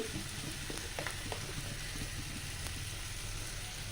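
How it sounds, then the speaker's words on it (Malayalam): Chilli, turmeric, pepper, garam masala and coriander powders for a prawn roast sauté in a pan, giving a steady, fairly faint frying hiss with occasional soft stirring sounds and no speech. "ഇതൊക്കെ ഇട്ട് കൊടുത്തിട്ട് നമുക്കൊന്ന് വഴറ്റിയെടുക്കാം."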